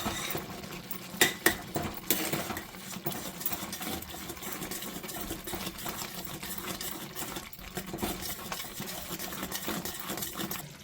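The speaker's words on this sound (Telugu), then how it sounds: "ఇలాచీ పౌడర్ వేసుకున్న తర్వాత కొంచెం కలుపుకోండి." A spoon scraping and clinking against a pot while stirring pumpkin (ash gourd) halwa with cardamom powder, a few sharp metallic knocks near the start and then steady scraping close by, with no talk.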